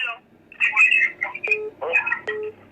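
A telephone call rings in short electronic trills, two bursts of warbling tone close and clear, with a faint voice between them.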